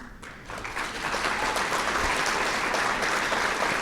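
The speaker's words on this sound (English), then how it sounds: "I'm going to ask you to hold your applause to the end, please." Audience applause fills a hall at the Alabama State Bar annual meeting grand convocation, building from a softer start into steady, dense clapping that carries on at an even level.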